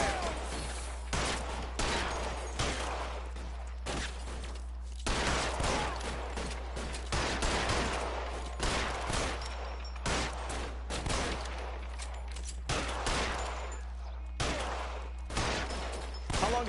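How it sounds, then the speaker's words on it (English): Gunfire rattles through a shootout in L.A. Noire, bursts of rapid shots and single cracks repeating across the scene, loud and close over a low steady hum. "Suppressing fire."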